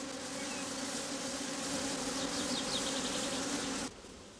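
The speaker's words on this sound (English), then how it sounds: "workers shaken out to make way for the grafts climb back into the hive" Honeybee workers shaken out of a hive crowd back into it, a dense steady buzzing hum of many bees close by that fades down sharply near the end.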